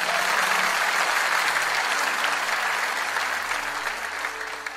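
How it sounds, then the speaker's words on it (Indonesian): A church congregation gives loud, sustained applause during a revival service, dense clapping throughout with soft sustained music tones beneath, easing slightly toward the end. "Boleh kita beri tepuk tangan yang terbaik."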